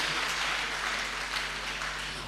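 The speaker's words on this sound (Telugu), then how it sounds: "దేవుడిని నమ్ముకుంటే గట్టిగా చప్పట్లు కొట్టండి" Church congregation clapping loudly together in a sustained, dense burst of applause that fills the room at steady volume, with no voices speaking over it.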